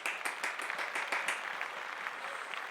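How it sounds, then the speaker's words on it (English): A studio audience claps for a few seconds in a comedy news show, sharp clustered claps at first that thin out and fade toward the end, moderately distant. "But let's give them a round of applause,"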